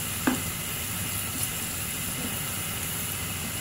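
Marathi-style tadka of garlic, turmeric, Kashmiri chilli powder and hing sizzling in hot oil for dal khichdi, a constant, close frying hiss with a light clink near the start.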